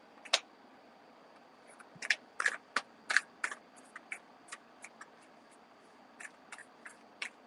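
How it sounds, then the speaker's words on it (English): Tarot cards shuffled quickly by hand, heard close and fairly quiet as a run of crisp, irregular snaps and riffling clicks with no talking. "Oh, I'm going fast with the shuffle."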